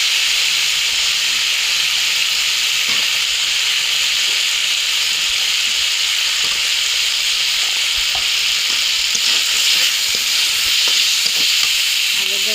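Potatoes fry in a cooked spice masala with a loud, steady, close sizzle and hiss that runs throughout, broken by occasional clinks and scrapes of stirring.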